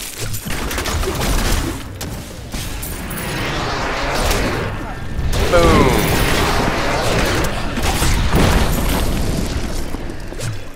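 Enemies burst apart in heavy booming blasts in Diablo 3: Reaper of Souls, with several explosions rolling one after another through dense combat noise while a player talks over them.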